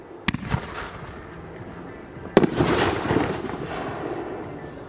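Consumer fireworks from a 4th of July lineup go off in two sharp bursts, the second followed by a crackling, fizzing spray of effects that fades out; fairly loud, with no voices.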